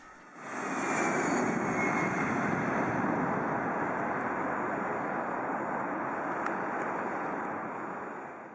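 Airbus A319CJ jet engines roar steadily and loudly for several seconds, a broad continuous rush with a high whine on top, fading in at the start and tailing off slightly at the end, with no voices.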